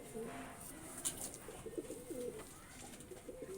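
A closed-tail high flying pigeon cooing softly and steadily in a few low repeated phrases, fairly close, over a constant outdoor hiss.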